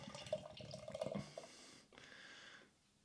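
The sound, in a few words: Belgian lager beer being poured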